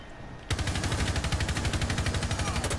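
Rapid automatic gunfire in the tactical shooter Rainbow Six Siege bursts in loud and close after a brief quiet moment, then rattles on in a steady, fast rhythm of shots until the end.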